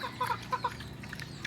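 Backyard chickens cluck in a few short, quick bursts at moderate distance, with a soft steady background hum and no talking.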